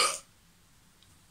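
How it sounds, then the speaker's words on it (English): A single short, breathy burp right at the start, close and fairly soft, followed by quiet room tone. "that burp was like very unexpected."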